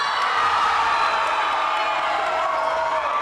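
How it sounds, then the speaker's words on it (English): Crowd at a national elite men's lead climbing final in the Philippines cheers and chants steadily, a dense, continuous roar with whoops, holding at an even loud level throughout. "I don't know if you can hear the crowd right now."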